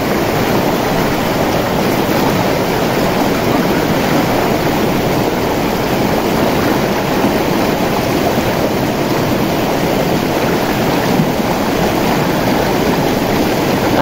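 A river flows past its bank in a loud, steady rushing roar of moving water, close and unbroken throughout, with no voices.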